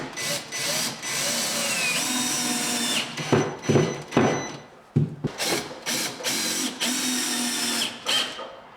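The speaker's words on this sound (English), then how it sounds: "you can fix the unit to the batten using some 4-inch long screws." A power drill drives long 4-inch screws to fix a tall kitchen unit to a wooden batten, whirring in sustained bursts with brief pauses and sharp stops between runs, loud and close.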